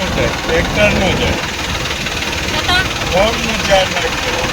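A tractor engine runs steadily near flooded village fields, a low continuous drone under a person talking.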